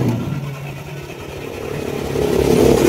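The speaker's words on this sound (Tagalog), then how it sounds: "Habang pinapainit ko yung motor" A motorcycle engine idles steadily nearby with a low, even rumble that grows slightly louder toward the end.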